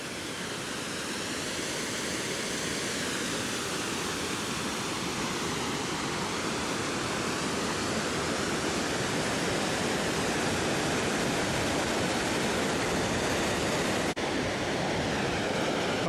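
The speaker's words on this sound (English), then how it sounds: "Top of a 700-foot waterfall right here below me." A 700-foot waterfall near Glacier Point in Yosemite roars as a dense, steady rush of falling water, heard from the top of the falls. The sound is loud and unbroken and mixed with wind buffeting the microphone.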